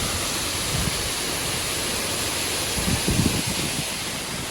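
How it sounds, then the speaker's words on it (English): Water pours into a narrowboat canal lock as the lock fills, giving a steady, loud rushing roar like a waterfall, with a few low thuds and surges partway through. "These locks take forever to fill. You can see I'm taking the water from the top lock"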